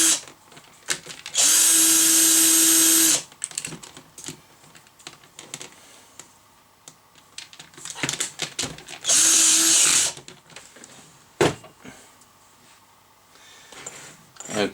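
An electric screwdriver fitted with a screwdriver bit, used on a CB power supply, whirs in two loud bursts of a couple of seconds each, with clicks and handling noise between them.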